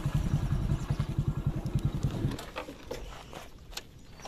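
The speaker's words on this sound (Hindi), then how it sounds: "हमारी बाइक इधर ही कहीं पार्क हो जाएगी" Motorcycle engine idling at a park entrance in Raigarh, a close, even putter of rapid pulses that abruptly cuts off, leaving faint outdoor ambience and distant birds.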